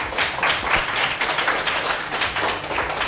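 An audience claps together in applause during a live Independence Day special show, a steady run of many overlapping hand claps with no break.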